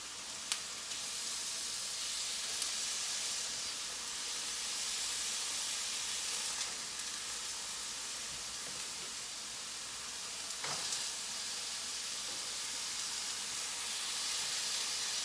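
Turkey burgers sizzling in a pan, a steady bright frying hiss that stays close and even throughout, with a few faint clicks and taps.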